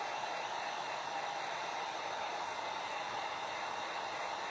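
A dryer blows steadily to dry paint on a wooden snowman craft, giving an even, quiet whooshing hiss that holds without change throughout.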